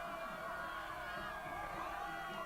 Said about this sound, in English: and the raucous crowds